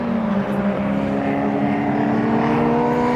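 Race cars, including a compact cup car and a Renault 5 Turbo, passing during qualifying at Brands Hatch, a steady loud engine drone with a sustained tone throughout, no talk.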